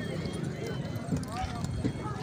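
Horses' hooves clatter steadily at a tent-pegging event in Haripur, mixed into a loud crowd with someone talking over the noise.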